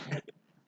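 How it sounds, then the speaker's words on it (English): A short, harsh smoker's cough bursts out close by, then trails off into a faint, quieter rasp within a second. "That's my smoker cough."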